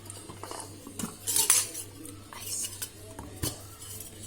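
A spoon clinks and scrapes against a bowl while icing is stirred, a series of close, irregular metallic taps and rattles with a quiet background hum.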